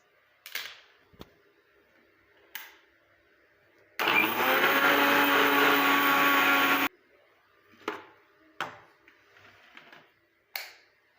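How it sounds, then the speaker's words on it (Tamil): A kitchen mixer grinder whirs loudly for about three seconds while grinding hair dye ingredients into powder, bracketed by quieter clicks and knocks of the jar and lid before and after. "இப்போ வந்து இது நம்ம எந்த அளவுக்கு நல்லா பவுட்ரு பண்ண முடியுமோ அந்தளவுக்கு வந்து பவுட்ரு பண்ணிடலாம்"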